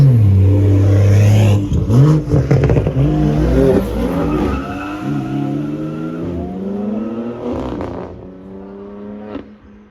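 A BMW M240i engine revs loudly and roars as the car pulls away from a car meet, with a brief tire squeal. The sound fades as it drives off into the distance.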